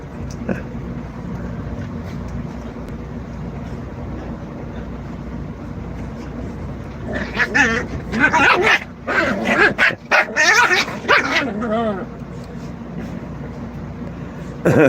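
Two 9.5-week-old puppies scuffle, letting out a burst of high yips, barks and whimpers over about five seconds amid a steady background hum, with someone talking.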